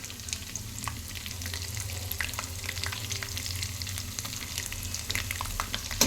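Garlic sizzles and fries steadily in a hot tempering of dried red chillies, curry leaves, peanuts and chana dal, a continuous close crackle with light stirring scrapes throughout.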